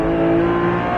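Porsche 991 GT3 engine accelerating on the Circuit de Bresse, a loud, steady, close-up engine note with a rising tone, continuous throughout without talk.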